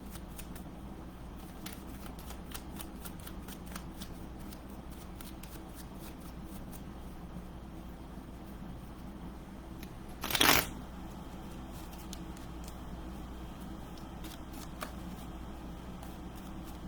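Tarot cards being shuffled by hand, a continuous soft riffling and flicking of card stock close by, with one brief louder snap partway through.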